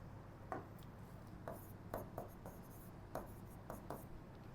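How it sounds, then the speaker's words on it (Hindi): Pen or marker writing by hand on a board during a class 9 physics lesson on force and laws of motion, giving quiet scratchy strokes in short irregular bursts, faint against steady room noise, with no talking. "अच्छे से लिख देते हैं।"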